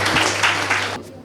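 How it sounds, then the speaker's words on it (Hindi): Audience applause at a celebration event for future assistant professors, a short burst of many hands clapping in uneven waves that cuts off abruptly after about a second. "तो तालियां हो जाए सबसे पहले।"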